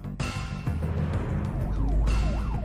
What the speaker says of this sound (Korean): 요란한 사이렌 소리를 울리며 달리는 사설 응급환자 이송단의 구급 차량